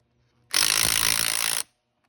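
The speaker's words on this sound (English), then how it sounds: "So I'm gonna get my wrench here and just tighten it down, tighten a little bit on each side." A wrench tightening bolts during a rear overload spring install on a Subaru Crosstrek makes a single steady ratcheting burr lasting about a second, close and loud against near silence.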